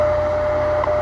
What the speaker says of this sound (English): my AC unit just kicked in.